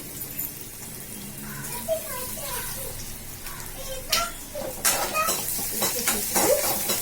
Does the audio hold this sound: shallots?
yes